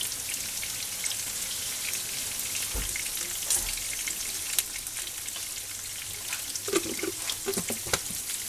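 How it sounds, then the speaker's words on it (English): Hands being washed under a running kitchen tap, a soft steady patter of water with scattered splashes and drips, fairly quiet and close, with no talk. "Wash my hands."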